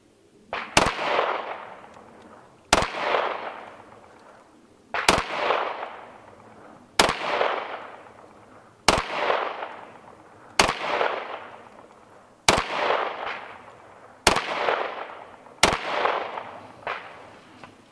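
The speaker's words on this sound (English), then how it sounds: "Really enjoy shooting this gun." A 10mm handgun fires eight evenly spaced loud shots about two seconds apart, each a sharp crack followed by a booming outdoor echo that fades before the next.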